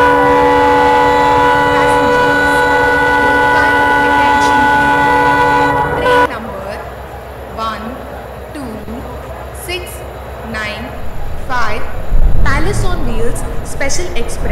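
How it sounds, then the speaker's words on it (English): Gatiman Express train pulling into a station platform, a loud sustained horn blast for several seconds, then a rumbling, clattering rolling noise with voices in the background. "Gatiman Express is arriving at platform"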